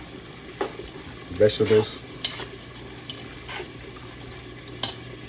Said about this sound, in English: So first I put my okra in, stir it up.